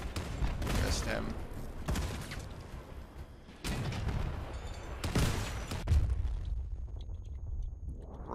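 Cannon shots in the Crossout vehicle combat game, repeated booming blasts and bursts spread across the stretch amid mechanical game noise, with talk in between.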